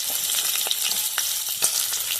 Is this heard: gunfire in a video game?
no